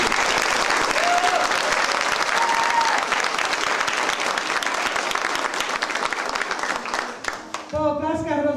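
Audience applause after a parish theatre play about a priest, dense sustained clapping that fills the room and carries on for several seconds before a voice begins speaking at the end.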